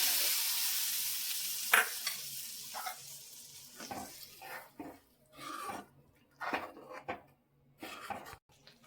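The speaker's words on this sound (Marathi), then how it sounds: "आता ही फोडणी आपण पालकच्या फोडणीमध्ये" Hot tempering of turmeric, spice powder and a dried red chilli poured into spinach for palak paneer, with close sizzling and intermittent spoon stirring, bursts of crackle between quieter gaps.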